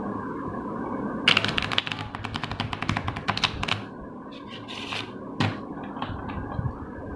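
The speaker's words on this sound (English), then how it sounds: "now I am mixing cards" A deck of playing cards is shuffled by hand in a rapid flurry of crisp riffling clicks, then a few scattered snaps and taps as the cards settle, close and fairly quiet.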